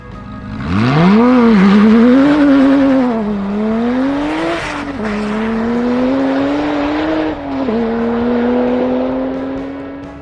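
A powerful Porsche 3.2-liter twin-turbo flat-six sports car engine revs up sharply, then holds a loud rising drone through gear changes, close by and alone.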